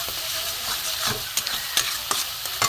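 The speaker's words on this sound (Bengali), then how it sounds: "একটু কষিয়ে নেবো ভালো করে যতক্ষণ না তেল থাকবে" Masala for a papaya chicken dish is stirred and fried until the oil separates, a dense close sizzle broken by several quick spatula scrapes and taps against the pan, with no talking.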